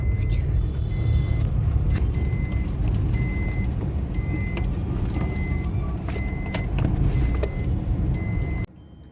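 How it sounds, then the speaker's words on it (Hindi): A car is parked outside a home, with an engine rumbling steadily, traffic noise around it and a repeating high electronic beep. A person talks over it before the sound drops off abruptly near the end. "गाड़ी पार्क कर रहे हैं"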